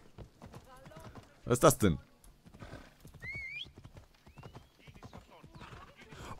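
Horse hooves clip-clop in Assassin's Creed Odyssey as the mount is ridden, with a short burst of louder hoof and neigh sounds, while someone talks casually over the game audio.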